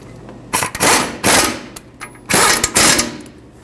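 Power tool running down brake caliper bracket bolts on a 2015-2020 Ford F-150, two loud close bursts of rattling impact hammering, each roughly a second long, separated by a brief pause.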